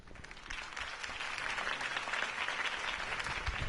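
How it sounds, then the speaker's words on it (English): A crowd applauds after a campaign speech in a Batman video game, dense steady clapping that swells slightly and holds, sounding fairly distant and filling the whole short stretch. "If only Mr. Wayne, my campaign's largest backer, could have heard that applause"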